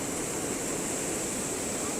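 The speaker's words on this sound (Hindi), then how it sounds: "ये ओवरफ्लो हुआ है तो पानी नदी की तरफ जाने बह रहा है।" Water overflowing Malir Dam after rain and rushing toward the Malir River gives a steady, loud broadband roar with no break or talk.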